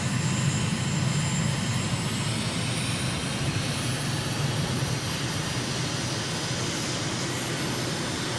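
A jet aircraft engine in a flight simulator over Uruguay spools up as power is added, a loud steady roar with a high whine that holds throughout, no voices.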